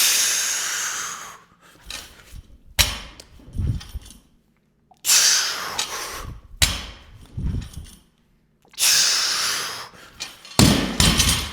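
A 205-pound barbell dropped and landing during touch-and-go squat cleans, four heavy thuds with clanking plates spaced by quiet gaps, plus strained breathing between lifts.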